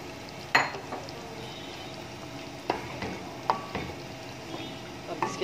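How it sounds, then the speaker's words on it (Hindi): Chicken karahi fries in a pan with cooked tomato paste, a low continuous sizzle broken by a few sharp clicks and knocks from a utensil against the pan. "अब इसके साथ हम इसको 10 से 15 मिनट अच्छे से भूनेंगे।"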